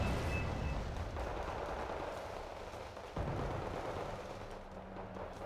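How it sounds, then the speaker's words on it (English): Heavy gunfire and artillery rumble in the Wargame Red Dragon strategy game, a dense continuous roar of distant shots and blasts with no clear breaks. "The Stormers take some heavy fire."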